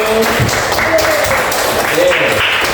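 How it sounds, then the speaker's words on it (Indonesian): An audience at an Islamic gathering with an ustaz breaks into applause, steady clapping with a voice talking over it throughout. "Tepuk tangan untuk kita semua dulu."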